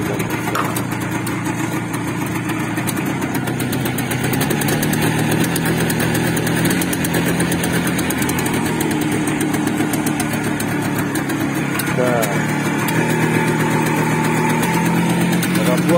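A retro IZh Jupiter two-stroke motorcycle engine idles steadily and evenly throughout, with a continuous close, loud low-pitched running note and no revving.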